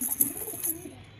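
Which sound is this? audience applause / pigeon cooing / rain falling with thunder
pigeon cooing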